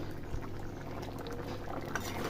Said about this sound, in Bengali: এই যে বন্ধুরা ঠকবক করে ফুটছে